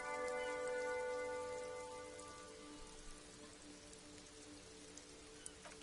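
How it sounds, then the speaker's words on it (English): Heavy rain falls in sheets over open water in the game Disco Elysium, a steady broadband hiss with faint drops; a sustained tonal drone fades out during the first few seconds, leaving only the rain. "Sheets of rain over the water"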